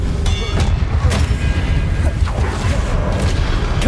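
Expelliarmus disarming spell cast in the Hogwarts Legacy video game, a loud burst with a booming crack near the start amid dense, continuous battle effects and rumbling low noise.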